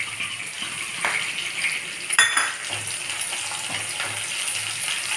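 Garlic, green chillies, onions and curry leaves frying in a pan for a vegetable curry, a steady close sizzle with a clink of a utensil against the pan partway through, no voices.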